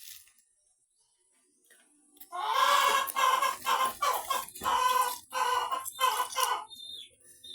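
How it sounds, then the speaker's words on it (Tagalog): After a couple of quiet seconds, a chicken breaks into loud, close clucking in repeated choppy bursts, with short gaps between calls. "Ang ingay ng manok."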